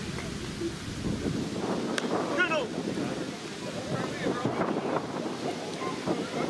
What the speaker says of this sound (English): It can't be only 18 kilometers the winds are gusting.